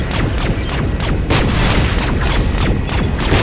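Rapid repeated gunfire in LEGO Marvel Super Heroes 2, a steady run of loud sharp bursts about every third of a second over a continuous rumbling game soundscape, with no talk.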